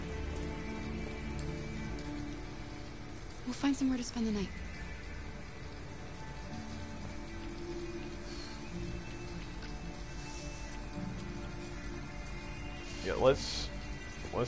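Steady rain in the video game Detroit: Become Human, a constant soft wash of falling drops under quiet talking, with a couple of brief louder bumps.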